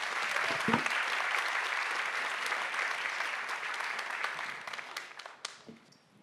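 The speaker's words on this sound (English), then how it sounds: "with a warm applause, Ramprasad Misra" At a science slam during Berlin Science Week, an audience gives warm applause to welcome a speaker onstage, a full roomful of clapping that holds steady, then thins out and trails off into scattered last claps.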